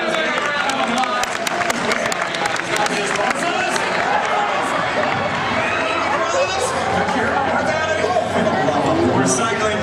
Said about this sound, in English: Everybody, let's give Derwin a big round of applause